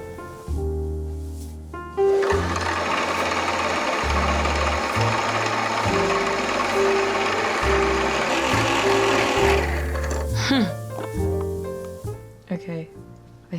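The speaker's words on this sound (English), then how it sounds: "the next step is sew some bias tape" A sewing machine runs in a long continuous whir, stitching bias tape onto a garment, starting and stopping with short bursts around it, close and loud, with music playing underneath throughout.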